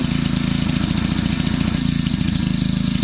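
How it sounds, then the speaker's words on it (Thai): A Makita four-stroke engine idles fast and throbs steadily as it warms up, loud and close, with a rapid even pulse and no one speaking. "เร่งอีก วอร์มเครื่องก่อน"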